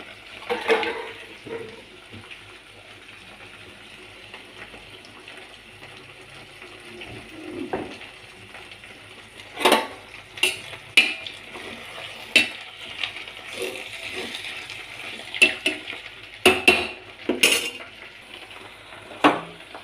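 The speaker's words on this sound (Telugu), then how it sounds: "ఇంత కొంచెం వాటర్ వేయాలి" Water splashes and sizzles into a hot pan, with scattered clinks of a utensil against metal and bursts of stirring.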